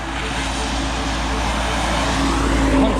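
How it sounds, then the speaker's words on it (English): Constant road traffic with lorries, a dense continuous rumble of engines and tyres close by that swells slightly toward the end, with a person talking over it. "Constant traffic."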